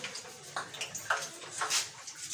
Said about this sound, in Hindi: और अब हम इसमें ऑयल डालेंगे